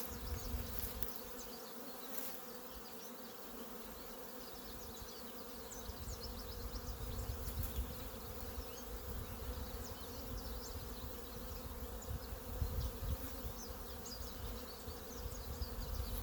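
A honeybee swarm hums and buzzes steadily around a green hive box outdoors, a dense, continuous drone of many wings that stays fairly even in loudness throughout with no talking.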